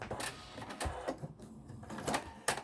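A sewing machine slowly stitches bias binding onto a garment facing, giving faint, uneven bursts of clattering needle strokes over a couple of seconds.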